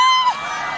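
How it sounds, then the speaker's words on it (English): A crowd cheering on runners at a school athletics day race: a short burst of high-pitched shouts and whoops from children and adults, with a sharp whistle-like cry fading into a brief mixed roar. "Let's cheer them on."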